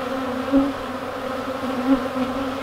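Honey bees hum around a laying queen inside the hive, a steady close buzz with a few louder swells as individual bees pass near.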